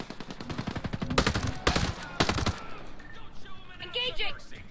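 Machine-gun bursts from a teammate in the video game Ghost Recon Breakpoint, several sharp rapid volleys crackling fairly near over game noise, with voices speaking around them.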